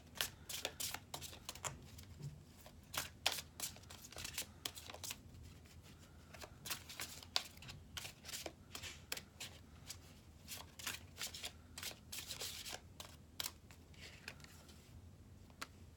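A deck of romance angels oracle cards is shuffled by hand, making quiet, irregular riffling snaps and soft slides that come in clustered bursts over a low, steady background, with no voices.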